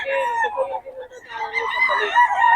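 A solid black gamefowl rooster crows up close, a single loud, drawn-out crow lasting a couple of seconds, with no talk over it.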